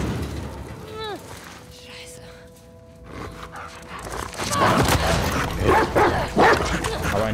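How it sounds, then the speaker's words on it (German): A dog barks and yips in The Last of Us Part II, with a few high whines early, then a cluster of loud, close barks over game ambience and music, with someone talking over it. "Aber ein Hund."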